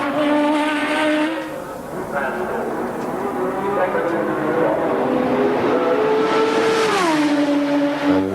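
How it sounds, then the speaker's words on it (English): A 1986 Formula One car with a powerful BMW engine screams through a qualifying lap in Australia, its loud, high-pitched harmonic whine sweeping up and down with gear changes and throttle. "the BMW engine he's got behind him is probably the most powerful"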